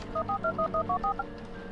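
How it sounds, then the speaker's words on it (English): A telephone keypad being dialed: a quick run of about eight clear dual-tone beeps in steady rhythm, close and distinct, followed by a quiet hum with no voices. "I instantly called Ron in a panic"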